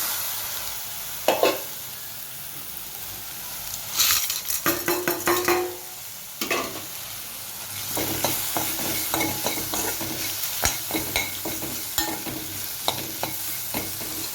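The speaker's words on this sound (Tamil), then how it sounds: "இப்போ இது நல்லா வதங்கிடுச்சு இது கூட நம்ம வதக்குனது எல்லாத்தையும் சேர்த்துக்கலாம்" Brahmi greens and lentils are sautéed in a pan for chutney: a close, continuous sizzle with bursts of stirring and scraping, a few louder clatters early on, then rhythmic spatula taps against the pan, with no voices.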